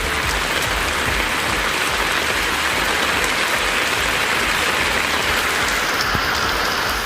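Heavy rain pours down in Krishnagiri district, a dense, loud, unbroken hiss of drops hammering surfaces with no pauses and no voices.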